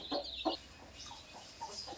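A mother hen that hatched thirteen chicks from sixteen eggs gives a few soft, close clucks, two short sharper calls followed by quieter murmurs in a hushed setting.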